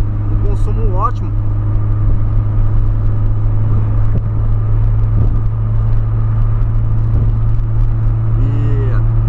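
A 1.6-litre car engine hums at a steady low drone from inside the cabin, with road rumble underneath and a few brief squeaks.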